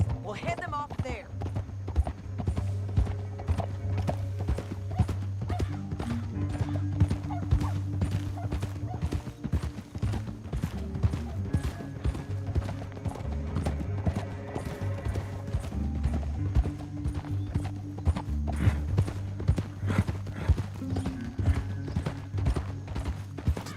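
Rapid, steady horse hoofbeats clip-clop in a video game throughout under continuous talking, with a low rumbling background.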